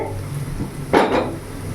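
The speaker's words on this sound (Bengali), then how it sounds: "আমি এবার ঢাকাটা খুলে দেখব" A lid is lifted off a pan of fried vegetables during veg chow mein cooking, giving a brief metallic clatter and a swell of sizzling amid faint kitchen hum, with no talking.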